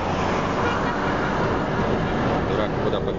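Dense road traffic with many cars passing on a highway under construction, a loud continuous roar and rumble of engines and tyres with no breaks.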